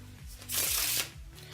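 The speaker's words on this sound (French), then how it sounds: "Je peux bien sûr faire un petit mélange," A French riffle-style shuffle of a deck of playing cards, a quick dense burst of flapping card edges in the middle, set against soft steady background music.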